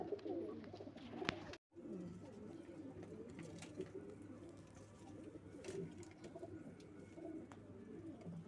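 Pigeons coo softly in low, rolling murmurs, several birds close together in a quiet space, with a brief silent gap near the start.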